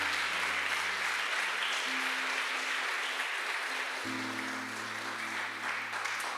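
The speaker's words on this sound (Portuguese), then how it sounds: "Vamos dar uma salva de palmas ao Senhor?" A church congregation applauding during a worship service, a dense, even wash of clapping over sustained low organ or keyboard tones, moderately distant and steady throughout.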